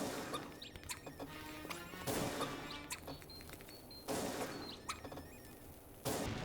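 Bombs explode in Link's Awakening, four sharp bursts spaced roughly two seconds apart, each a crisp crash over a busy backdrop of small game effects.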